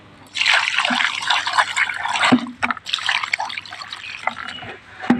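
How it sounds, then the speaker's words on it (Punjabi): Water pours and splashes steadily onto an orange sapling nearby, a continuous gushing patter with a brief dip midway. "ਇਹਨੂੰ ਪਾ ਦਈਏ ਪਾਣੀ"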